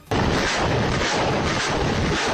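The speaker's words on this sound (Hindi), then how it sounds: "जिसमें मल्टी बैरल लॉन्चर से उसकी फौज रूस पर हमले करती नजर आई" A multi-barrel rocket launcher fires in a Ukrainian attack on Russian positions, a loud, dense, continuous roaring rumble that starts abruptly and holds steady throughout, with no speech.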